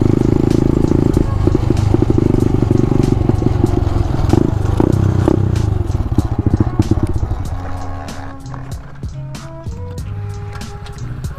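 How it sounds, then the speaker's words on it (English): A loud pit bike engine runs close by in a neighborhood, its rough, crackling rumble strong at first and then easing to a lower, steadier idle, with faint rattles and clatter throughout. "my bike's so loud"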